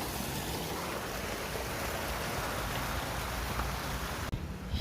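Water from a decorative stone-flower waterfall in Minsk splashes in a dense, steady hiss that fills the scene, loud and close and broken only by a brief pause near the end.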